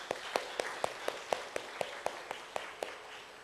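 Slow, evenly spaced claps, about a dozen crisp sharp hits, sound in a church congregation as a newcomer is welcomed. They are faint and thin with no voices over them.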